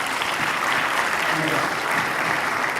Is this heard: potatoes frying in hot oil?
no